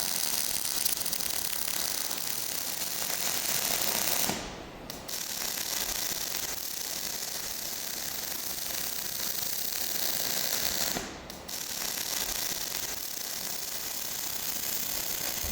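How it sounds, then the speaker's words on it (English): MIG welding on the steel top deck of a custom engine cover for a Franna crane, a continuous crackling, buzzing hiss heard close and fairly loud, broken by two brief pauses where the arc stops and restarts. "I'm going to weld around the rest of the components on top."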